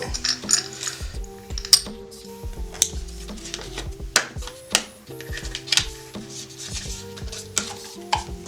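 A vintage 16mm film camera being opened and loaded with film by hand, close-up metallic clicks, ratcheting and small clanks of parts and reels in an irregular sequence, with faint low voice murmurs in the background.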